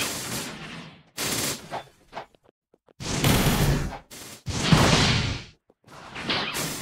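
Flame fruit bullet attacks fire in Blox Fruits as a series of loud, sharp whooshing and crackling bursts, several in a row with short silent gaps between them, and no voices.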